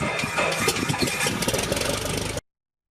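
A 1972 Cessna 172L aircraft engine cranks and catches, a loud choppy rumble with rapid firing pulses for about two and a half seconds before cutting off abruptly.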